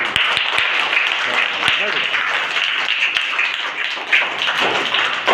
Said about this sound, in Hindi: give them a big applause, बजाइए Tali